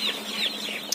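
Young broiler chickens in a poultry shed give a brief burst of soft, high peeping and clucking, faint and somewhat distant, over a low background hum.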